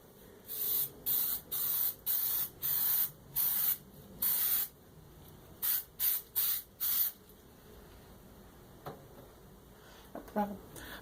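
An aerosol can of spray glue gives a rapid series of short, sharp hissing bursts, each about half a second long, close to the microphone. Light tapping and handling noises follow in a quieter stretch.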